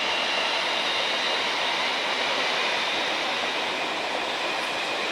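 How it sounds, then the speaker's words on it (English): A train rushes by on the railway line beside Berkhamsted Castle, giving a steady, loud roar of wheels and carriages that fills the whole moment without a break. "right next to the trains"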